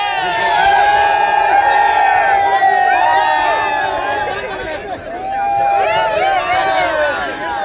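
A big crowd at a bullock cart race ground cheers loudly, shouts and whoops overlapping in a continuous roar that briefly dips midway before swelling again.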